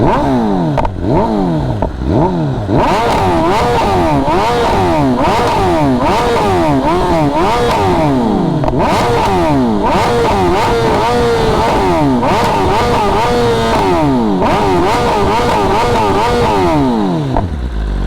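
A loud 2023 BMW M1000R superbike engine, 220 hp, revs up and down over and over, its pitch sweeping repeatedly through gear changes, close and continuous, with no talking.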